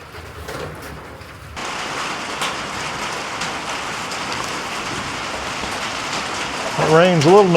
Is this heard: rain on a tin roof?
yes